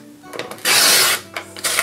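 Paper sliding and being cut along a folding and cutting board for a handmade Advent calendar house, close rasping strokes with one long loud swipe in the middle, no talk.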